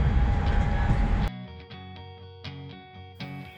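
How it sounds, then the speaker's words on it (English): An Amtrak Pacific Surfliner passenger train arriving at LA Union Station rumbles loudly for about a second, then the roar drops away, leaving quieter clanking and ringing tones as it settles. "Our train is arriving into LA Union Station right on time."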